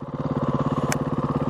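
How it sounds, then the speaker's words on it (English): Motorcycle engine pulsing through a slow wheelie, a close, loud, rapid even chug of about twenty beats with one brief sharp burst near the middle, no talk. "a controlled wheelie over, I think, 4 blips."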